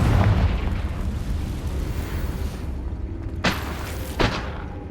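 A Confringo spell explosion in Hogwarts Legacy: a loud, continuous blast and rumble that fades, followed by two sharp bursts near the end.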